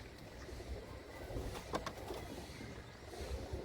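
Faint, soft cooing of pet pigeons kept in a net enclosure rises now and then against a quiet, hushed background.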